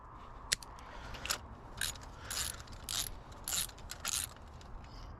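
A socket ratchet with an extension works a spark plug loose from a cheap car's engine, giving a few sharp, bright clicking bursts spaced irregularly against a faint background.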